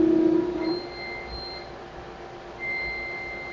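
Two electronic beeps from a laser cutter signalling the end of a cut, each a sustained high tone lasting about a second, sound fairly quietly over a low background hum.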